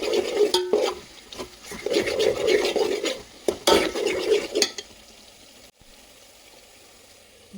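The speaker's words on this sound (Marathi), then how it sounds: "हे वाटण आहे ना छान परतून घ्यायचं." Spice paste sautéing in a pan for vegetable pulao, with a spoon scraping and stirring in bursts of sizzling and clinking, close and fairly loud, then trailing off into near quiet.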